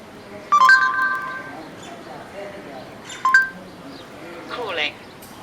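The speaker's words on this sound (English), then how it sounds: "So basically it is calling my voicemail number." Android Moto X phone dialing a voicemail number after a voice command, a couple of short electronic tone bursts with faint chirps, moderately loud over background hiss.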